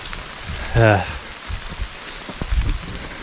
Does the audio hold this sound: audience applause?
no